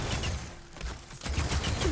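Enemies fire together in Horizon Forbidden West: a dense run of rapid, loud gunfire bursts that dips briefly in the middle and then resumes, with no talk.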